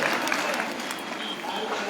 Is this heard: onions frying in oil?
no